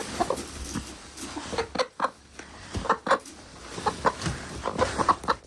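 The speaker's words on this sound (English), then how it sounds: "There are 3 chickens in this pen right now." Several hens clucking in a coop pen, a run of short, scattered calls and squawks at close range with soft rustling between them, no talk.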